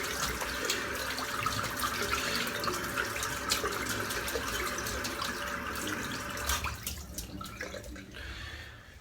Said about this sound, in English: The brush, I'll just give it a bit of a clean out, just still loads of lather in it.